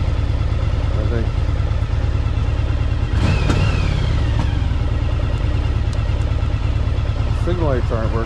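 A 1984 Yamaha Virago 1000 motorcycle engine runs loud and close with a steady throbbing idle, then brief revs partway through and again near the end, while a voice talks over it.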